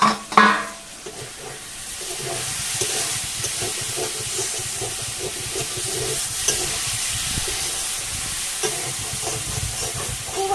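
Lightly spiced vegetarian taro root curry sautéing in a pan: a steady hissing sizzle after a brief clatter at the start, with soft, irregular stirring scrapes throughout and no speech.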